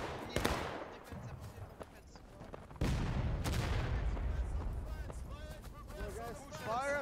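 Musket volleys in the Civil War shooter game War of Rights, sharp bursts of gunfire cracking out at irregular intervals with a heavier volley midway, while voices call out over the noise.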